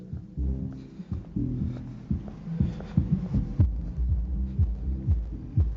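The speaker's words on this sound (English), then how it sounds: "The walls are shaking in here. That's just one sub." Deep, pulsing bass thumps from a single Electro-Voice ETX-18SP subwoofer in a steady rhythm, booming and loud, with low notes rattling through an enclosed room.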